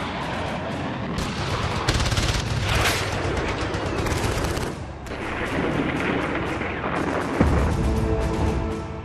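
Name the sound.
heavy artillery shelling sound effect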